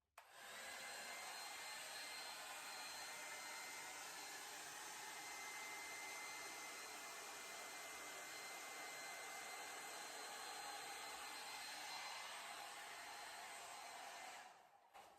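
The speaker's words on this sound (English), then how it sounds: "on the flower hair dryer, I use it on low" A flower-shaped hair dryer on its low setting blowing steadily on an acrylic painting, a constant close whooshing hum that runs unbroken for the whole span and cuts off at the end.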